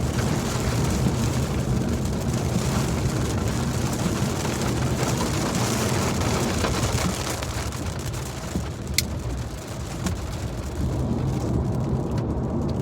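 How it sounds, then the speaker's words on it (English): Steady rain drums on a car while it is driving, a dense continuous wash of patter over low road and engine rumble, loud and unbroken throughout with no talk. "It was raining back there."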